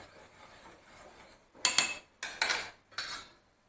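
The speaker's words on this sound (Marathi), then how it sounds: "चमच्याने त्याला ढवळत राहायचं आहे।" A metal spoon scrapes and clinks against a pan while stirring milk and fried bread for shahi tukda, a run of four or five quick, close strokes after a quiet start.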